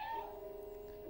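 A single short, faint video game cat meow with a high, thin tone that dips and then holds briefly.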